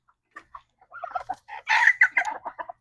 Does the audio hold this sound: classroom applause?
no